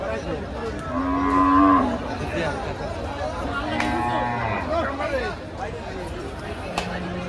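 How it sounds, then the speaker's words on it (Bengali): Cattle low repeatedly at a crowded cattle market, with several loud moos rising over a constant hubbub of people chatting nearby. "এত গরু উঠছে বাবা রে বাবা"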